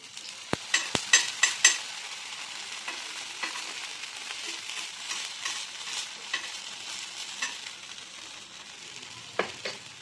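Food frying gently in a small amount of oil, a soft steady sizzle with occasional light clicks of stirring, fairly quiet and alone.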